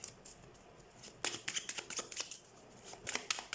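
Tarot cards being shuffled by hand, a close, crisp riffling flutter in several quick bursts after a quiet start, with no talk over it.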